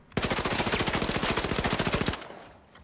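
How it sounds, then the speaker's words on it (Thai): Rapid, sustained burst of XP54 submachine gun fire in the shooter game The Finals, loud and close with an even rattling rhythm for about two seconds before cutting off into a brief tail. "XP54 เป็นปืน SMG ที่ยิงรัวได้แล้วก็มีสโคป"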